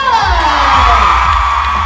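A live-event audience cheers and whoops loudly in a brief, continuous swell of many voices.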